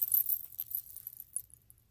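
Small metal coins on a handmade mermaid doll jingle and clink in quick shaky bursts, bright and close, fading out toward the end.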